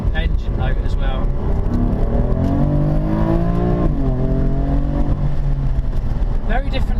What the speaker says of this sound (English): just listen to that engine note as well